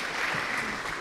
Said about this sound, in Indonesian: tepuk tangan buat Pak Gum.